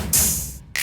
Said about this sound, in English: Added this little reverb snap.